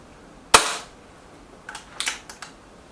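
EB Arms XV2 pellet air gun fired once: a single sharp, loud crack close by, followed by a few faint clicks of handling, with no talk.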